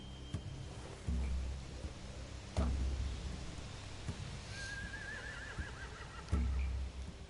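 A horse whinnies briefly over a steady rainy hiss, with a few dull thumps spaced apart, in a The Walking Dead video game.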